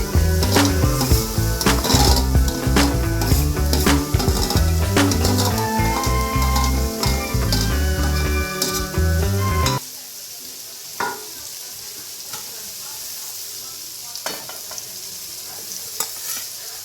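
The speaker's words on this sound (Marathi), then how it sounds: "तर अशी फोडणी करायची मस्तपैकी, थोडीशी परतून घ्यायची आणि त्यानंतर तो किसलेला फणस आहे तो घालून घ्यायचा." Grated jackfruit stirred into a hot oil tempering in a pan, with loud, dense sizzling and scraping for several seconds before it drops to a quieter crackle with scattered clicks.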